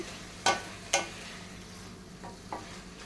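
Brinjal fry being stirred in oil in a pan, with two sharp scraping strokes and then two softer ones over a faint steady sizzle.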